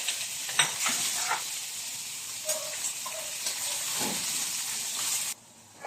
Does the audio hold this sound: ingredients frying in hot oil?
yes